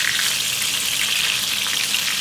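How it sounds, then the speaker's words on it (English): Chicken fried steak frying in hot oil gives a loud, steady, dense sizzle and crackle that runs unbroken from start to finish, with no talking over it. "they've been frying for a few minutes on the second side"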